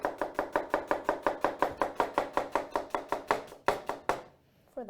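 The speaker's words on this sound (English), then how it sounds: "And then this would be julienne." A knife julienne-cutting vegetables on a cutting board, giving a fast, even run of about twenty sharp, close chops that stop abruptly, followed by a brief quiet.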